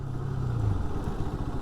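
A motorcycle slows from about 60 with its rear brake applied, its engine giving a steady, close, low rumble with some clatter throughout and no talking.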